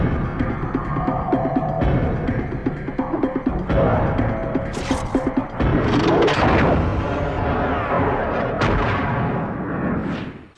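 Gunfire in a Hindi-dubbed South Indian action movie, several loud sharp shots and booms cutting through a dense, throbbing film soundtrack, with no dialogue heard.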